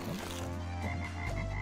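A frog croaks in a video game, a short low throaty sound under a dense musical backdrop.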